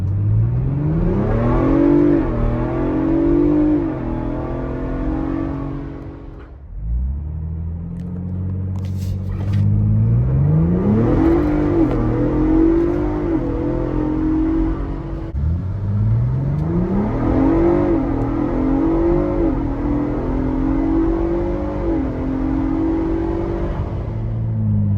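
A Ford Bronco Raptor with its stock intake revs hard three times in succession, heard from inside with the windows up. Each deep, loud rumble climbs in pitch and then drops back, with brief dips between the bursts.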